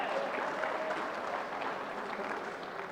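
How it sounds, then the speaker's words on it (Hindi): Applause rises from the audience at an annual Maruti sales convention, a soft, distant wash of many hands clapping steadily throughout. "थोड़ा तालियों से बता दीजिए।"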